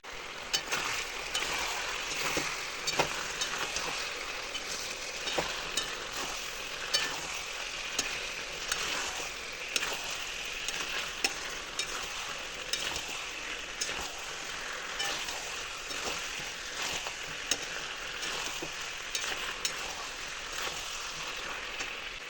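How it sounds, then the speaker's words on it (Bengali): Tomato masala sautéed in a pan: a long, fairly quiet sizzle with regular scraping stir strokes throughout and no one speaking. "এটা কষানো হোক আরও কিছুক্ষণ, তারপর আসছি।"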